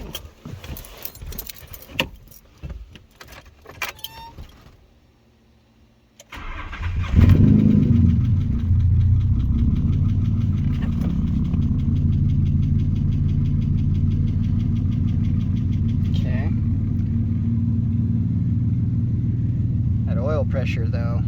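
A car engine cranks, catches and settles into a steady, loud idle right after a new turbo, plugs and wires are fitted; keys jangle and a voice talks briefly before the start.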